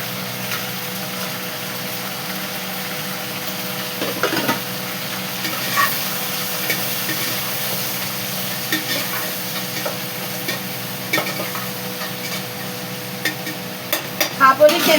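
Onions sizzle steadily in hot oil in a pan, with a spoon stirring and scraping at intervals, a close continuous frying hiss with occasional clinks and a voice speaking faintly underneath.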